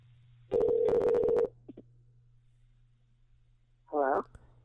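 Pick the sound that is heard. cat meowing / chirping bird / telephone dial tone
telephone dial tone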